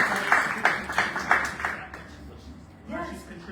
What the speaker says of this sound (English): Everybody clap it up, please, for Stephanie McGraw.